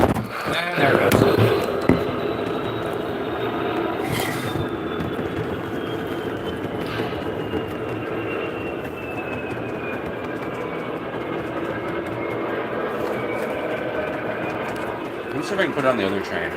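A model train runs along its track in a home layout, a steady close rumble and clatter that continues throughout, with a person talking over it.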